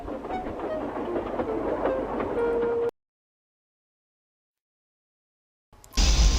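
A storybook steam engine puffs steadily along the rails with a rhythmic rumble and clatter, fairly loud, then cuts to silence before a brief burst of sound returns.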